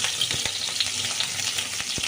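Pointed gourd (potol) frying in oil over a medium-to-low flame: a dense, continuous close-up sizzle with a few soft stirring knocks, no voices.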